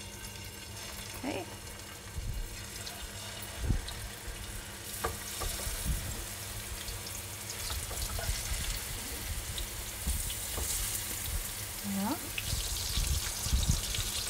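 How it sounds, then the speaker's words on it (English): Lamb kebabs lowered into heated oil and frying, a steady crackling sizzle with scattered pops running throughout, while a person talks over it. "So once the oil has heated up, I'm just going to gently lower the kebabs"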